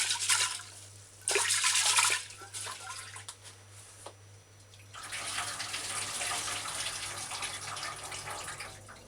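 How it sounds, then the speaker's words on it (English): Tap water running over hominy corn as it is rinsed, with a loud gushing burst, quieter trickles and splashes, then a steady, broad stream of running water. "So rinse it and throw this water off."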